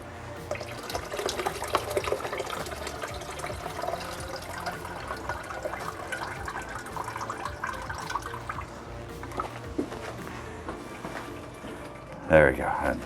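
Bacon grease is poured off a pan of bacon meatloaf in a steady trickling, liquid stream. It runs continuously under a person's speech, and a brief clatter comes near the end.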